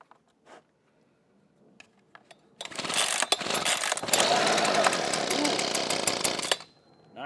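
A Husqvarna 125B leaf blower with a no-start fault, on full choke after purging the fuel lines, briefly roars to life with a loud, rough, sputtering two-stroke engine burst for about four seconds, then cuts out, preceded by quiet handling clicks.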